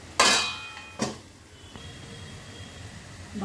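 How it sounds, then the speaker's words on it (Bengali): A lid goes onto a cooking pan of white note greens in a home kitchen: two metallic clanks, the first louder and ringing, then quiet background. "এবার একটু ঢাকা দিচ্ছি।"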